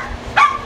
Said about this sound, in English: going crazy on the neighbor dog